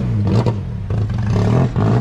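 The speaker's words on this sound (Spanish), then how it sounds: "Y ahí el coche, bien, suena bien este coche" A hill climb race car at the Subida a La Santa revs hard, its engine snarling in loud, repeated bursts that rise and dip over two seconds, close by and with no voices over it.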